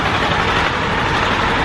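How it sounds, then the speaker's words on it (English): A loud, steady Nissan 350Z engine rumble close by, running continuously without pause, like the motor idling just after it fires up. "The car just started."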